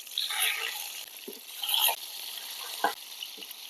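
Hilsa fish pieces fry in hot mustard oil with a bright, hissing crackle that swells and eases, punctuated by a couple of soft clunks from the pan.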